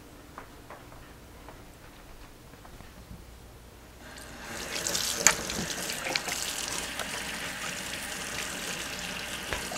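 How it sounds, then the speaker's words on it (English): A kitchen sink tap turned on partway through and left running in a steady close splashing stream while hands are washed during home cooking, with faint ticking beforehand and no talking. "what I'm going to do is go wash my hands"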